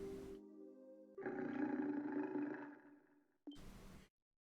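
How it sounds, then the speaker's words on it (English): Growling from a pack of wolves in the video game Trails in the Sky: a sustained, rough snarling roar swells for a few seconds and fades, preceded and followed by short bursts of game noise. "What the? A pack of wolves?"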